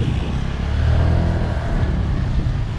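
A motorcycle pushes through flood water, its engine droning low and steady with a churning wash of water, loud and close throughout without pause.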